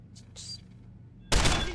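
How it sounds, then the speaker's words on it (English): After a quiet stretch with a couple of faint clicks, a sudden loud burst of gunfire in the video game Deus Ex: Human Revolution erupts during a police station break-in and keeps rattling to the end. "Gunshots!"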